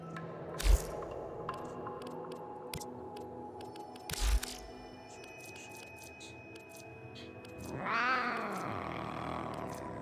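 A cat sounds in the game Warframe, two short sharp bursts followed by a rising, wavering meow-like cry near the end, over a low humming background.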